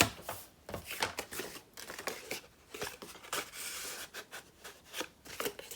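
Card stock is cut for a triangular tri-fold greeting card, giving a series of close, irregular scraping and snipping strokes with brief pauses between them.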